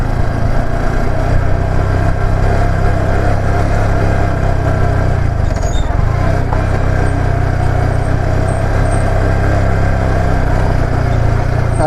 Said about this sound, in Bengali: আমি শুধু একটা বাইক, তাও R15 নিয়ে এইরকম অফরোডিং রাস্তায় এত খারাপ রাস্তা দিয়ে আমি যাচ্ছি